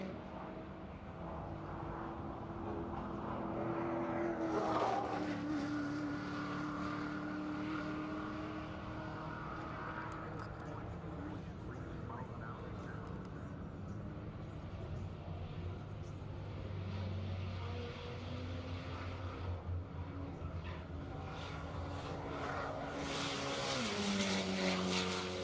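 A time attack race car at Road Atlanta drives down the front straight, its engine a steady, somewhat distant drone with rising and falling pitch sweeps across about 25 seconds. There is no talking.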